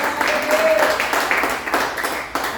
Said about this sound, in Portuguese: Aplauda esse Deus bem forte